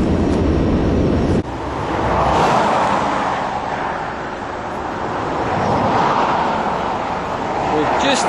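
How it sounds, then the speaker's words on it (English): Steady roar of road traffic with vehicles rushing past close by, swelling and fading as each one goes. "You can hear the cars going past."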